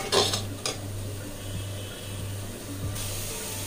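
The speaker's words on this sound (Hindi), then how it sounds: "तो इसको हम अच्छे से भून लेंगे मीडियम टू स्लो फ्लेम पे।" Spinach for khichdi sautés over a medium-low flame with a soft sizzle and clinking spoon-on-pan stirring. A steady low hum runs underneath, close and fairly quiet, with no voices.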